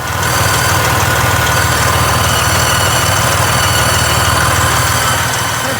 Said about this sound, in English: I'm getting sounds out of my turbo